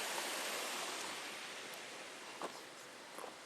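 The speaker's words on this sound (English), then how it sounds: "This is our waterfall." A waterfall near a cabin along the Alaska Highway gives a steady, broad rushing roar that fills the scene, unbroken and fairly distant, with no voices.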